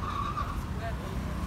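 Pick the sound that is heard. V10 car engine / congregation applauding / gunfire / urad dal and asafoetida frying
V10 car engine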